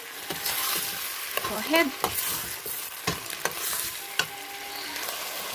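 Beef kaldereta being stirred in a hot pan, a steady sizzle of frying meat with scraping utensil strokes at close range, a brief spoken phrase in between.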